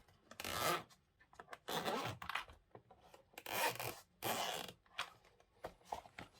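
The zipper on a rugged case for a Gamesir X2 gamepad is pulled open in several long rasping runs, each separated by short pauses, close and fairly loud with no talk.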